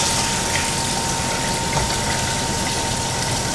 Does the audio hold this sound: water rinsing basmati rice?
yes